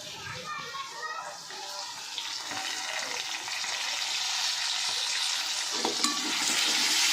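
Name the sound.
food sautéing in a pan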